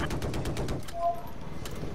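A helicopter gunner's cannon fires in Battlefield 4, a rapid burst of loud repeated shots that stops partway, followed by quieter game ambience.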